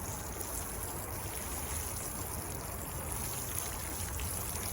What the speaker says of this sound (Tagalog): didiligan natin ng tubig.